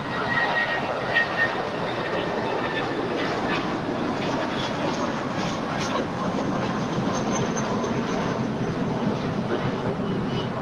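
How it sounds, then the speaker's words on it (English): A Spirit Airlines Airbus A319 rolls down runway 25 right at LAX, a steady distant jet roar that holds a broad, even rumble throughout. "next departure is the Spirit Airlines A319 on our way to Dallas. Now rolling down 25 right."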